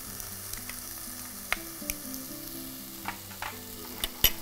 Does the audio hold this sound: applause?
no